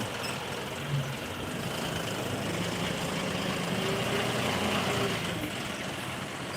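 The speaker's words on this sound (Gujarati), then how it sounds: "મારું ગૌશાળાનું ટ્રેક્ટર" A tractor used at a cow shelter runs nearby with a steady, rough low engine rumble that holds at an even level throughout, with no talk.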